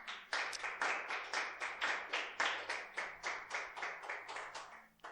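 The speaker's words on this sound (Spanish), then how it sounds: "Dale un aplauso a Jesús" Church congregation clapping in unison, a steady rhythmic beat of about eighteen crisp claps at an even pace, fairly close, with no talk over it.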